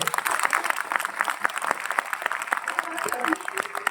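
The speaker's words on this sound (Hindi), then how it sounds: "तो एक बार अपने देश के लिए एक बार जोरदार तालियां हो जाए" Applause from an audience at an on-stage business talk, a dense burst of hand-clapping that carries on steadily throughout, fairly loud and close, with a voice coming in near the end.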